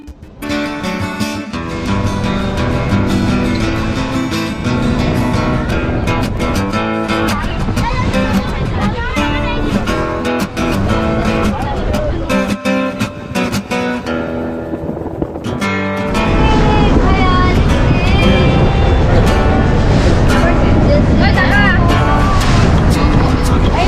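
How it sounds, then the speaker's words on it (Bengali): Boat crossing the Matla river in the Sundarbans, its engine droning loud and steady with heavy wind buffeting the microphone, and the roar thickens partway through. "এখন আমরা বোটে করে মাতলা পেরিয়ে ওপারে ব্যাঘ্র প্রকল্প দেখতে যাচ্ছি"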